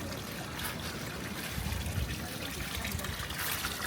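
Water trickles and splashes at a sandy beach on the coast near Cebu, a steady close dribbling wash that continues without any talking.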